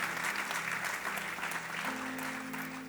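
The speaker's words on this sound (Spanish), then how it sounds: "Dar un aplauso al Señor" Steady applause from a church congregation, dense clapping filling the whole stretch with no pause, with faint musical tones underneath toward the end.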